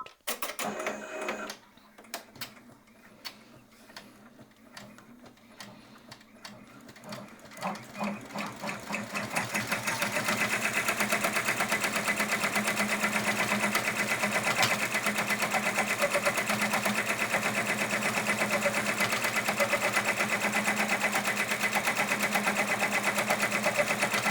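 A multi-needle embroidery machine stitches an applique design, first with a few clicks and slow stitching, then settling into a fast, steady mechanical whir that stays loud and close for the rest of the clip.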